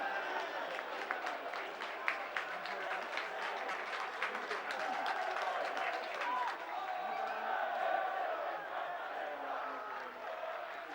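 Football stadium crowd at a Chester versus Nottingham Forest match in 2005 applauds a player walking off toward the home end, a broad, distant wash of clapping and crowd noise with some voices mixed in.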